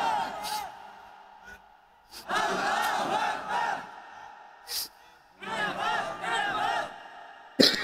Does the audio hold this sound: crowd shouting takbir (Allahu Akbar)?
yes